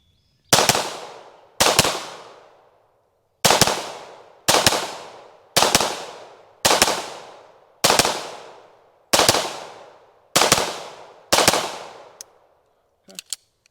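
A Staccato XC pistol fires a full magazine at an outdoor range: nine sharp, loud reports in an uneven cadence, some in quick doubles, each with a decaying echo, followed by a faint click at the end.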